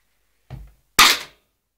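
A single sharp pop from a cocked BB/airsoft gun, loud and close, preceded by a softer low thump about half a second earlier.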